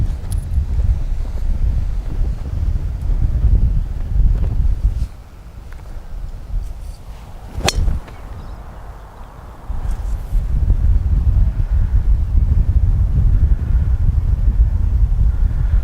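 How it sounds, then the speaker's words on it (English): Strong wind on a golf course buffets the microphone with heavy, low rumbling gusts. The blast eases for a few seconds midway, one sharp club strike cracks through, and then the full roar returns. "The wind is strong, guys."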